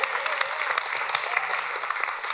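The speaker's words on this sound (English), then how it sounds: "Let's give God a hand clap of praise." A church congregation claps in praise, a steady dense patter of many hands filling the room throughout, with faint scattered voices beneath.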